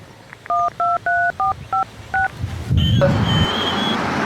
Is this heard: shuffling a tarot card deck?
no